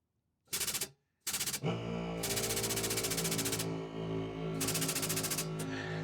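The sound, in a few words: air compressor running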